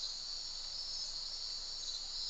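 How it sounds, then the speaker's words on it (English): Crickets chirp at night in the Zoo Park game, a continuous high-pitched, even trill held steady and moderately faint, alone without talking. "We've got some noise from crickets."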